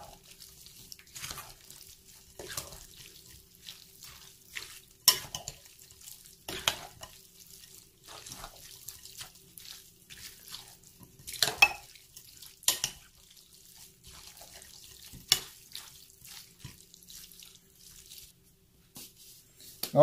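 Shrimp ceviche is being stirred in a bowl, giving intermittent wet clinks and sloshing scrapes in irregular bursts, close and fairly quiet with pauses between strokes.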